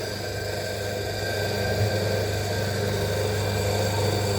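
An electric motor's rotor spins steadily during a lab test, giving a constant mechanical hum with a low steady drone and vibration throughout, fairly loud and close with no voices.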